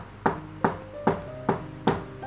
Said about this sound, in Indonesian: Terkaanku itu adalah suara pijakan kaki menyentuh ubin lantai.